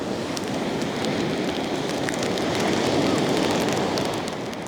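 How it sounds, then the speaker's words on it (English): Steady rain hisses continuously outdoors, with scattered drops ticking through a windy, broadband wash of sound. "and it's starting to rain."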